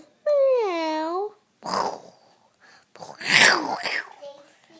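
A young girl imitates a cat with one drawn-out, wavering meow close to the microphone, then speaks softly.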